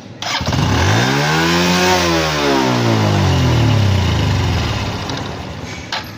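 A Honda Wave 110 motorcycle with a carburetor fault is started, then its engine surges up and down erratically, revving loudly up close before settling toward idle and cutting off near the end.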